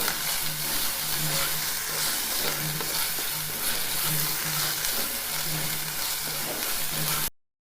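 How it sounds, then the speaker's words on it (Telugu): Onions and ginger garlic paste fry in a pan with a continuous close sizzle and occasional stirring scrapes. The sound cuts off abruptly near the end. "ఇది ఎర్రగా అల్లం వెల్లుల్లి పేస్ట్ పచ్చివాసన పోయే వరకు వేయించుకోవాలి."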